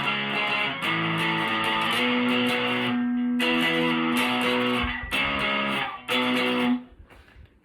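A loud distorted electric guitar runs through the next section of a song with sustained and chugging power chords, pausing briefly before a final chord rings out and fades.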